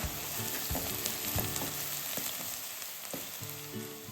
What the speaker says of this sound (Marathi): तर आपण कांदा पूर्ण व्यवस्थित भाजून घेऊया